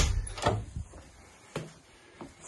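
The back door of a house is handled: a few knocks and clunks of the door moving and latching, fairly close, spaced over two seconds with quiet between.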